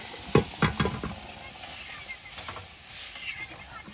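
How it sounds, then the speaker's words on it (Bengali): Dal poured into a hot pan of fried fish heads gives a few sharp sizzling bursts at first, then settles into a softer, steady frying hiss close by. "এবার দিয়ে দেবো ডালটা, ঢেলে দেবো।"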